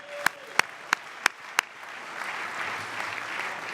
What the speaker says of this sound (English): Let's give Alex a big round of applause.